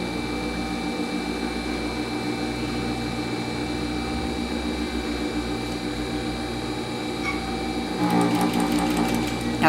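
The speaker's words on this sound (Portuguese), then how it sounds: "Agora, eu vou costurando minha saia" A sewing machine runs steadily stitching a skirt near its gathered ruffle, a continuous close hum that thickens and gets a bit louder toward the end.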